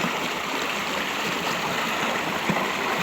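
A stream used for rinsing laundry rushes in a dense, constant wash of flowing water, loud and close with no pauses and no voices.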